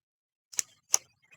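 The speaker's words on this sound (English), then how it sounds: "I'm just gonna type that" Two sharp, isolated clicks about a third of a second apart, quiet and close, like separate keystrokes on a computer keyboard, with silence around them and no talking.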